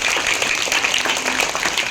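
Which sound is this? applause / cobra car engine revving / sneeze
applause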